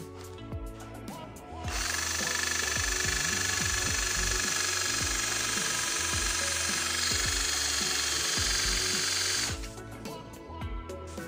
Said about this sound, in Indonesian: Berikutnya kita akan mengebor besi menggunakan mata bor bawaan yang dapat dari paket pembelian.